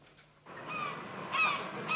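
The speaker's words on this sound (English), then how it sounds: "Fanshawe, you've forgotten to switch on the birds." Recorded bird calls played as a sound effect in a 1970s sitcom scene, harsh cawing and honking cries starting abruptly and running on at moderate loudness with no voices over them.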